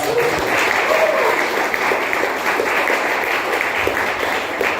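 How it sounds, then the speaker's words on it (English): Steady audience applause fills a Toastmasters club anniversary meeting, a dense, even wash of many hands clapping at close range that holds without a break throughout. "Give a big round of applause for all."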